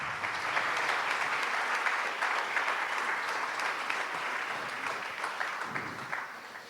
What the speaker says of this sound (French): On peut les applaudir, oui.